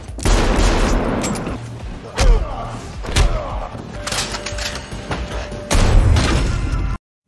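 Gunfire exchange in an action film, scattered heavy shots and thuds over a dense background of music and effects, loud and close, with a voice narrating over it.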